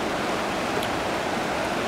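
Creek water flows steadily in Golden, Colorado, a continuous close rushing wash with no breaks and no voices.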